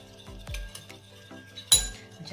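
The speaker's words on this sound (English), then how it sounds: "Mix all of that in together." A utensil stirs oil into a homemade vinaigrette in a bowl, giving a few sharp, close clinks and light scraping strokes with short pauses between them. Nobody talks.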